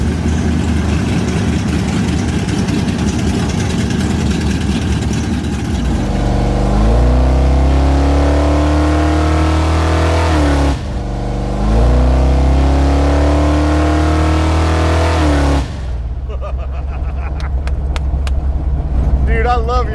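A 1970 Chevelle with custom Lemons headers idles, then revs and pulls away in two loud, deep accelerating runs separated by a gear change, its rumbling exhaust close by; a voice is faintly heard beneath it.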